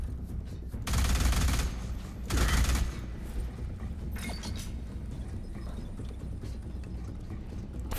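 Automatic weapon fire in a video game, two loud bursts of rapid shots about a second each, close and heavy, separated by quieter ambient game sound.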